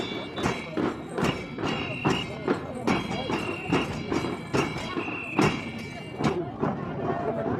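Horses carrying riders clip-clop in a parade, a steady run of hooves striking hard ground close by.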